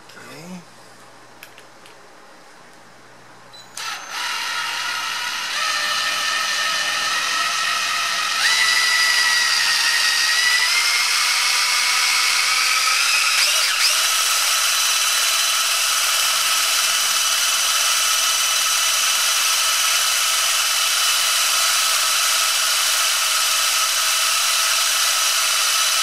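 A power drill spins a 24V 200W three-phase wind generator: the motor whirs up to a high, steady whine after some quiet handling noises, holding a sustained pitched drone with a brief wobble partway.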